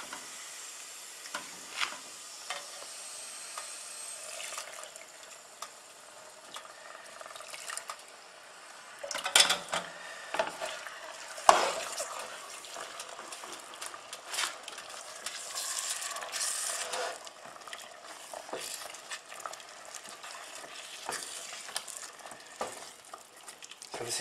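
A flour roux being stirred with a small amount of liquid in a pan for a mushroom and tarragon velouté, giving close, soft scraping and sizzling that rises and falls irregularly, with a few sharper clinks from the utensil.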